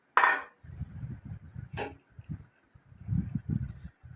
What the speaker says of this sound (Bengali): আগে থাকতে যে চিংড়ি মাছটা ভেজে রেখেছিলাম এবার এই তরকারিতে চিংড়ি মাছটা দিয়ে দিলাম